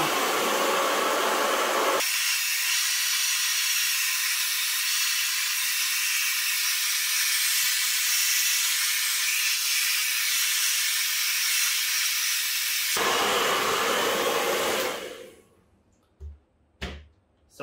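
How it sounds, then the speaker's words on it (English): A heat gun blows a steady, loud hissing rush of hot air while heating vinyl sticker wrap on an e-scooter, running continuously for about fifteen seconds before cutting off, followed by a few faint handling knocks. "So I gave the whole thing a bit of a once over with the heat gun just to really make sure it's adhered nicely."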